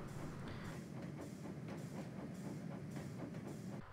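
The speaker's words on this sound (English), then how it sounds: "All he could do now was watch the trains go by." A train rolls past with steady rumbling and rhythmic clickety-clack of wheels over the rails, continuous and fairly close, no voices.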